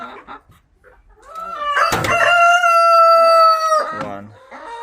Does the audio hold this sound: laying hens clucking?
yes